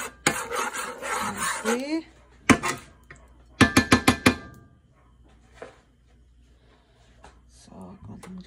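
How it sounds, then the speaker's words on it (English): Scrambled eggs stirred in a pan with nachos for migas, giving scraping rasps of a utensil against the pan in bursts and a quick run of rhythmic strokes, with a person talking. "so I got my eggs in there, and I'll just kind of scramble them up"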